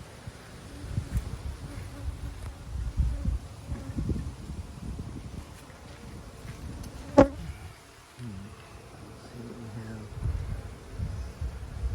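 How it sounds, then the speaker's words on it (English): Honeybees buzz around a hive entrance, a soft continuous drone of many wings coming and going close by, with light rustling and one brief sharp sound partway through. "bees are coming up, hovering momentarily, landing and walking in"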